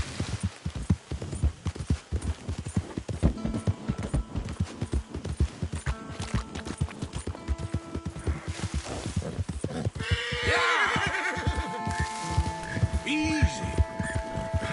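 Hooves of a horse in Red Dead Redemption 2 beat in a fast galloping rhythm, with someone talking over them and a brief bleating animal and ambient sounds later on.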